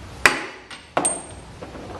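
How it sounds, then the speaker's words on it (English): Two sharp hammer blows strike a wooden block set under a golf cart steering wheel, each a loud, close, ringing crack about 0.7 seconds apart, with a faint metallic ping after the second. "and then we're going to hit it with a hammer"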